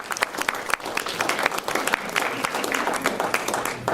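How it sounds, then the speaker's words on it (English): At a senior centre lecture, the audience gives a round of applause for three guest experts: moderate, irregular clapping from a modest crowd with individual hand claps standing out, steady for several seconds. "I'd like a round of applause and say thank you to our three guests"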